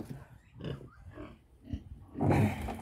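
Pigs on a Jamaican pig farm grunt close by in short, irregular bursts. A louder, rougher snorting flurry comes near the end, with some voices in the background.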